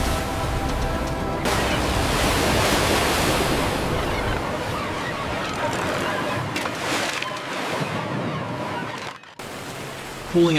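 Cold ocean surf surges and hisses in a loud, continuous wash around a crab-fishing boat, then breaks off abruptly near the end with a brief gap.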